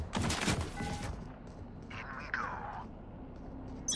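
Gunfire in the tactical shooter Valorant: a dense burst of rapid shots in the first second, then a sharper whooshing effect, with voice chat heard over the game sounds.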